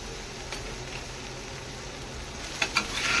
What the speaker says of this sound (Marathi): भेंडी छान मिक्स करून घेऊया भेंडी तेलामध्ये चांगली परतली गेली पाहिजे